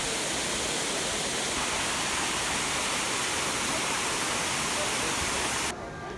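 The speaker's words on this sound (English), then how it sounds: "in the presence of this totally normal waterfall" A waterfall in Epcot's Future World at Walt Disney World gives off a steady, dense rushing roar of falling water, loud and constant, cutting off abruptly near the end.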